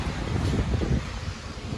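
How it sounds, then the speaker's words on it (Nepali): Wind blowing under a peepal tree makes a steady, broadband gusty rush with rumbling buffeting against the microphone, fairly close and with no talk. "कति मिठो हावा चलिरहेछ यहाँ पिपलको बोटमा।"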